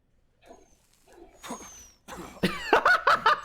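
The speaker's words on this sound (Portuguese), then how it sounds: "Ele tosse e a máscara troca." A character in Metal Gear Solid 4 coughs a few times in short harsh bursts, preceded by quieter breathy sounds and game effects in the background.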